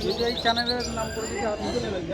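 Pigeons on sale at a market in Serampur, with brief chirps and soft coos up close while people talk over them and market chatter fills the background.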